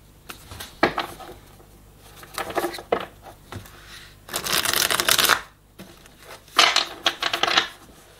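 Tarot cards are shuffled and drawn by hand on a table, heard as close, crisp riffling bursts of varying length separated by short quiet pauses.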